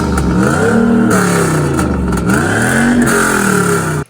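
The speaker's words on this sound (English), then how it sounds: "I didn't think a V8 would be the worst sounding exhaust so far." A V8 engine in a Trans Am revs hard through a loud, throaty exhaust, rising and falling in pitch twice before cutting off abruptly.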